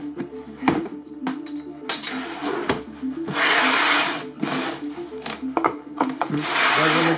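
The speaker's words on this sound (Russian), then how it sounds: "Сейчас мы эту пломбу с вами вместе и откроем." Someone scrapes and breaks the plastic factory seal on a PIT PBH24-D rotary hammer case. Sharp clicks and snaps are followed by rough, rasping rubbing noises, close up and irregular.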